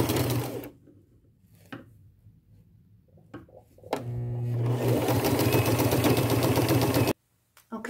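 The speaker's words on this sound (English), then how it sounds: "I'm going to sew it closed" Sewing machine stitching a ruffle hem closed: a couple of short bursts, then a steady, fast mechanical whir of stitching for about three seconds before it stops abruptly.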